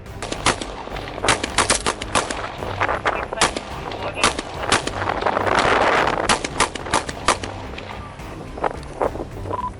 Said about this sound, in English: was shooting from outside the school in an attempt to break in